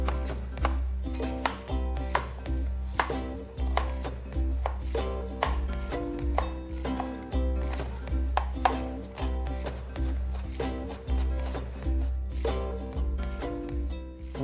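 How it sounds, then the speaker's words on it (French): A knife cuts vegetables into julienne strips on a cutting board, giving a fast, steady run of sharp chopping taps over a low continuous background hum, with no talk. "On va commencer par découper nos légumes et notre poisson. Donc les légumes, on découpera en julienne."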